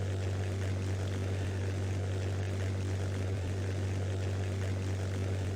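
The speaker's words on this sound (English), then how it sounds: "We're following one of the chase planes used in the production, flying north up the San Lorenzo." A propeller chase plane in the Trainz video game flies north over Santa Cruz, producing a steady, low droning hum that holds unchanged at moderate volume throughout, with no voices.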